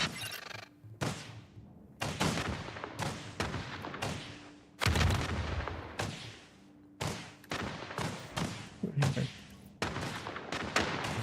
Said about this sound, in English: Yes, sir. Missiles coming up.